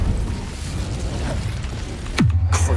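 The Incendio fire spell in Hogwarts Legacy goes off as a game sound effect, a sudden whooshing burst with a falling tone near the end, over a rumbling background mix.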